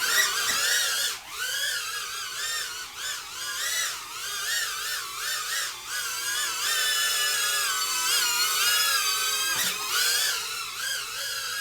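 RS90 drone motors spin up after ignition on, giving a steady high-pitched electric whine that wavers and surges in pitch throughout, close and loud with no talk.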